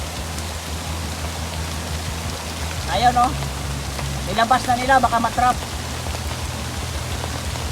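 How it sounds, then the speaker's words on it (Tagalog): Heavy rain pours steadily in a constant dense roar, with a voice speaking briefly over it midway. "lumakas yung ulan"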